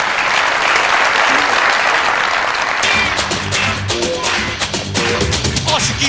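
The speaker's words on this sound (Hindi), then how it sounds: "बहुत सारी तालियां इनके लिए।" A studio audience at a Pakistani television comedy show breaks into loud, sustained applause, a dense wash of many hands clapping steadily, with the texture turning slightly more rhythmic partway through.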